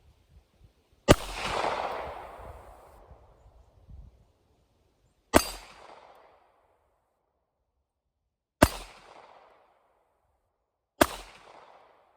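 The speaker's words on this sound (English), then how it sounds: "We're shooting at 5 yards, frangible ammunition on steel plates." Four sharp shots from a Kahr P380 pistol firing frangible ammunition at steel plates five yards away, each loud crack followed by a short ringing decay, spaced a few seconds apart with no talking.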